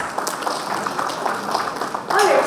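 An indoor audience at a panel discussion on AI in contact centers applauds the panelists and moderator, a steady wash of clapping throughout, with a voice rising over it near the end.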